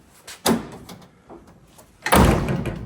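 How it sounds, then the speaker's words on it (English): The door of a 1981 Camaro Z28 is shut in a workshop: a soft first thud, then a louder closing slam with a rattle. "Watch, I'll shut the door."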